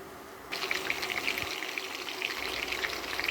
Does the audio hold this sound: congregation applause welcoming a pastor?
no